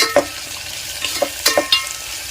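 A spoon stirs tomato, carrot and brinjal pieces in a hot pan, making several quick scraping knocks in an uneven rhythm over a light background sizzle, up close.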